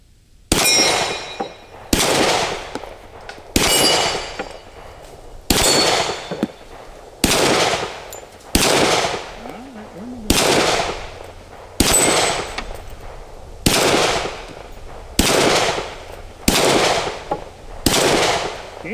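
Glock 20 SF 10mm pistol fired at steel plates outdoors, a dozen loud sharp shots at a slow, even pace, each followed by a long decaying echo and faint distant ring of steel.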